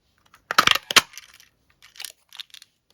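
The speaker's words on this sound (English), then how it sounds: "just slide this into the punch and just punch it out" A handheld paper punch pressing a shape out of card stock: a couple of sharp close clacks and crunches, then quieter clicks as the paper is handled, with no talking.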